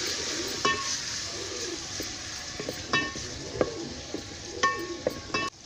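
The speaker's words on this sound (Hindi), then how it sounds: "ये 1 अदद प्याज को हमने हल्का हल्का ब्राउन करना है" A single onion browning lightly in a pan, a soft low sizzle punctuated by repeated metallic clinks and scrapes of a spoon against the pan at irregular intervals.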